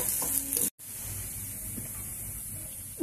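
Cluster beans fry in oil with a continuous close hiss and sizzle, briefly cut off by a short gap, then resuming steadily with faint stirring clicks and no voices.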